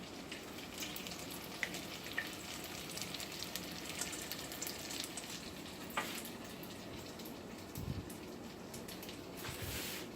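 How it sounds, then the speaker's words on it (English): Panzerotti frying in hot oil, a soft continuous sizzle with scattered crackles and pops, close and fairly quiet, with no one talking. "Let's put this one in the oil."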